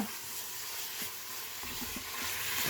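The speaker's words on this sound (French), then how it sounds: "on va laisser dorer sur la fonction dorée quelques minutes." Meat browns in an electric cooker for beef bourguignon, giving a steady close hiss of sizzling fat with faint occasional ticks and pops, no voices.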